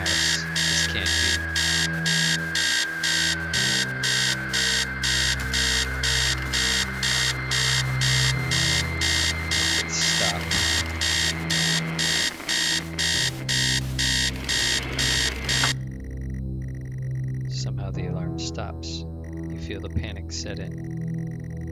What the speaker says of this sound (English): Upstairs, the sound of an alarm clock blaring.